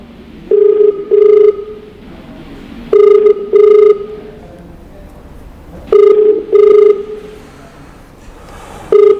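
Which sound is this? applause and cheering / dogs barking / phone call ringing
phone call ringing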